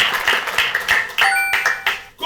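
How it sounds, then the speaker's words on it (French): Brief burst of audience applause during a French Bible quiz, with quick claps in an uneven rhythm, loud and close, and a couple of bright tonal pings mixed in. "On acclame pour Joseph."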